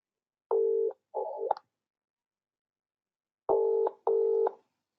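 On an outbound sales call to an electrical company, short electronic tones sound in two pairs, a quick pair near the start and another after a pause, clean and isolated like dialing beeps on a phone line.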